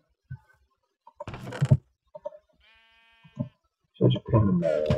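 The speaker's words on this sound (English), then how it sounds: "Where'd you go, stupid sheep?" A sheep bleats in the video game Cube Survival, a few short wavering calls among game sounds, one steady tone and a voice talking near the end.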